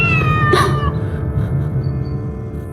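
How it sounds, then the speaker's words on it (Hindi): A cat gives one clear, fairly loud meow at the start, followed by quieter room sound with a low background rumble. "ये एक बिल्ली है।"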